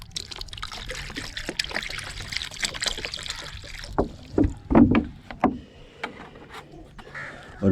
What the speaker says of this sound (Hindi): इस तरह से सभी बर्तनों में फ्रेश पानी डाल देंगे।